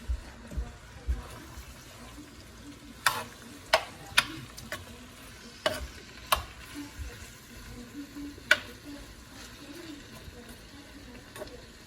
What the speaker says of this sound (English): it's going to pretty much simmer and halfway fry together